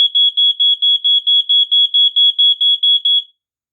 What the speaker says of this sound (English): I don't know why it took so long for it to go off when I pushed the button there